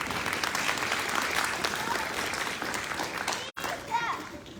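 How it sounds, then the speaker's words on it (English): A school audience of students applauds the staff at the front of the room, the broad clapping mixed with children's voices and crowd chatter, broken by a brief cut of silence before the noise resumes. "So students, let's give these people up here a round of applause."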